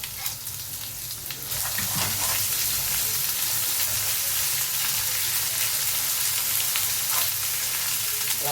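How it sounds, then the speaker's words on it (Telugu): Chutney frying and bubbling in plenty of oil, a steady loud sizzle that swells after a quieter first second and crackles on continuously without talk. "నూనె అనేది ఇలా పొంగాలి చట్నీ అనేది."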